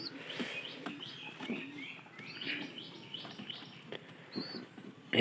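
Plump, well-fed pigeon chicks give repeated thin, high chirps and squeaks at moderate distance over a soft, steady background hum.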